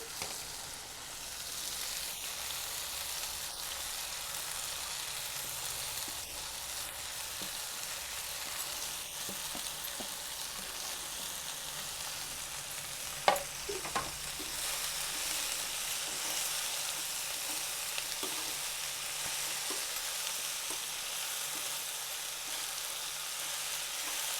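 Chopped spring onion greens sizzle steadily in a hot pan with fried chillies for an egg and spring onion curry, with a few brief stirring scrapes midway and no talk.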